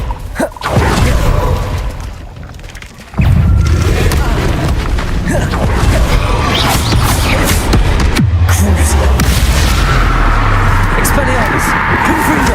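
In Hogwarts Legacy, combat spells such as Incendio, Confringo and Expelliarmus produce loud explosive blasts and a sustained roaring rumble. A player's voice runs over the heavy booms.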